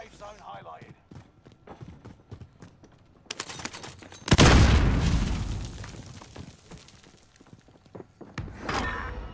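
A loud, sudden explosion from an RPG rocket in a first-person shooter game bursts out midway and roars into a long decaying rumble, set among scattered gunfire and clatter, with players talking over the action.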